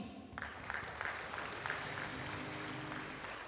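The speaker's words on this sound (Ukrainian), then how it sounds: "Я хочу подякувати вашим шановним тренерам за їхню працю, за їхній креатив, за їхню мотивацію. Аплодуємо їм" An audience at a gymnastics championship opening parade and awards ceremony applauds the coaches: a steady, fairly distant wash of clapping from a large hall that swells in after a brief quieter moment and continues evenly.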